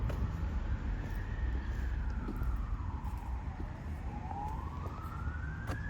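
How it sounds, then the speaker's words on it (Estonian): A siren wails with a slow rising and falling sweep from a distant emergency vehicle, steady and moderately loud over continuous low traffic rumble in a garden area in Tartu, with no talking. "Seda sireenide värki kuuled või?"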